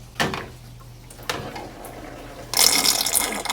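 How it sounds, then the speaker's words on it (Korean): Water poured into the condenser of an LG Tromm electric dryer for cleaning gurgles and trickles down inside the machine, with a brief splash near the start, another at about 1.3 s, and a louder rushing pour in the last second. "물소리가 꾹꾹 하면서 들어가고 있습니다."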